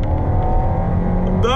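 A 2016 Audi A4 accelerates hard toward 100 km/h, its engine droning loudly and steadily close by, with a sharp rising whine near the end.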